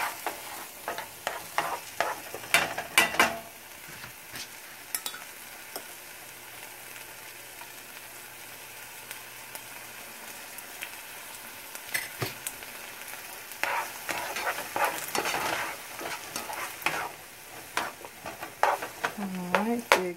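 Garlic sizzling softly in a pan on the stove, with intermittent bursts of scraping and stirring from a utensil, quiet stretches between, close and moderately faint.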